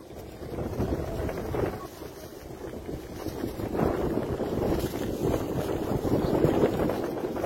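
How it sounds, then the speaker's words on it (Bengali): A boat rides rough, wavy water on a river, heard as a continuous churning, wind-buffeted rush that swells and eases over several seconds, with no clear talk. "বোটে ভীষণ ঢেউ হচ্ছে, বোটে বলছি নদীতে"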